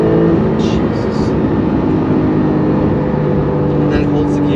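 Engine and transmission of a 2019 Porsche 911 Carrera 4S in Sport Plus mode: a loud, steady, aggressive drone heard from the cabin while someone talks over it.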